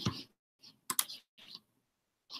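Mouse clicks while saving settings changes on a computer, a few quiet separate clicks spaced unevenly across a quiet background, with faint breathy speech-like noise between them.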